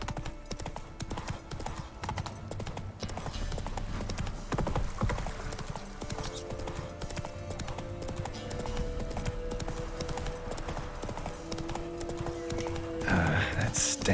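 Hoofbeats of a horse galloping in The Witcher 3 video game, steady clip-clop with snorts and a whinny, heard under game music and voices talking.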